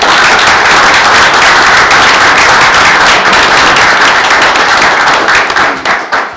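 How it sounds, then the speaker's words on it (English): Loud, sustained applause from a crowd at a board meeting, steady clapping throughout that begins to thin and fade in the final second. "Let's give them a round of applause."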